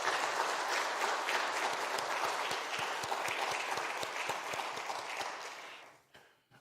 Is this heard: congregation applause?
yes